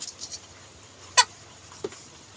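Broiler chickens in a chicken shop give two short, faint clucks, one around the middle and a softer one just after, over quiet background hiss.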